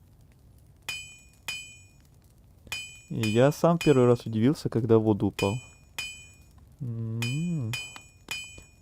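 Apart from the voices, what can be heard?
blacksmith hammering in video game Hollow Knight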